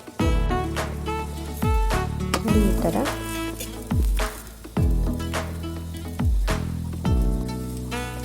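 Dry coconut holige frying with a little oil on a hot griddle, a steady close sizzle and crackle with repeated soft thumps and scrapes as the flatbread is handled, under low background music.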